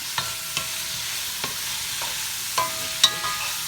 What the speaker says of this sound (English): I'm just going to stir up my vegetables. And let those cook a little bit.